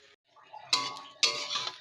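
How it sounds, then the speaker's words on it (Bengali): A lid being taken off a cooking pan of bottle gourd peel, two quick metallic clanks with a brief ringing scrape between them, close and moderately loud. "ঢাকাটা তুলে নিয়েছি"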